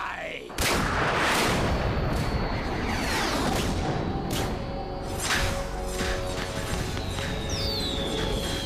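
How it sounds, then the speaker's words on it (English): Loud, continuous explosions and rocket blasts in Metal Gear Solid 2: Sons of Liberty, with sharp booms, crackling debris and whooshing streaks, dense and unbroken, with faint voices underneath. "Whee! Fireworks and rockets."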